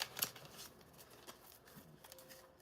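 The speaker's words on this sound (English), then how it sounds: "Give us one full shuffle for long haul." Tarot cards being shuffled in short crisp riffles and slides, quiet and close, with scattered taps and no voices.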